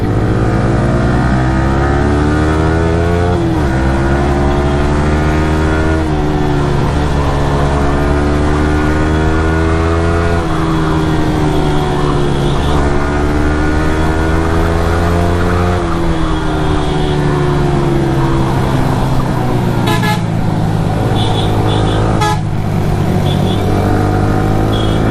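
Motorcycles ride at moderate speed on a Yamaha moto-vlogging road trip, a steady close engine drone with gradually rising and falling pitch as the bikes shift and accelerate, plus a few brief sharp clicks near the end.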